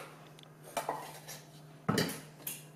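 Tapioca being mixed with ground coconut in a metal pot, with a few sharp utensil clinks and scrapes against the pot over quiet background, including two louder knocks.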